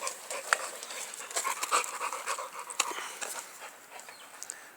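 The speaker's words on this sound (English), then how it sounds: "What we have is a tired dog." A tired dog pants steadily after a play session outdoors, quick breathy huffs repeating at a fairly close distance, with a few faint bird chirps in the background.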